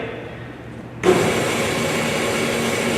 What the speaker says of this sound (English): See, the saw is now running.